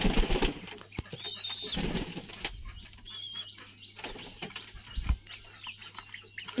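Chickens, including young Tiger breed chicks, cluck and chirp softly just after being fed on a small farm, with scattered pecking, rustles and light thuds nearby.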